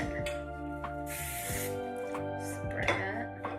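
Hairspray is sprayed onto hair in a single steady hissing burst lasting about half a second, close and fairly loud, with background music playing throughout.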